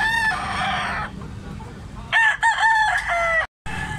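A young stag rooster crows loudly and close by, a long crow followed by a second broken crow after a short pause, with faint farmyard background between them.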